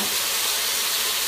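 Steady sizzling hiss from frozen boneless chicken cooking in an Instant Pot, continuous broadband noise at moderate level with no speech.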